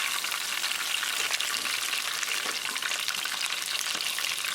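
Chicken strips deep frying in hot oil, a loud, dense, continuous crackling sizzle close by, steady throughout with no talk.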